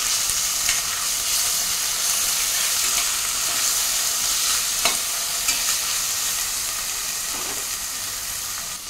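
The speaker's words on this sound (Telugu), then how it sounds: "మిక్స్ చేద్దాం." Onions and ginger garlic paste frying in a pan while being stirred, giving a loud, continuous close-up sizzle with a few sharp spatula scrapes and clicks, slowly easing toward the end.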